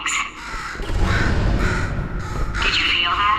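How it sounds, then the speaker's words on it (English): A crow caws repeatedly in the Portal 2 video game, its harsh, loud calls close up and layered with a synthetic voice talking over the game's background hum. "Could you, murder this bird for me?"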